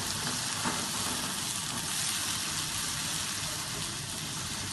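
Chopped carrots and peas fry over a medium flame in a pan with an even, loud, continuous sizzle that stays close and constant, with no talking.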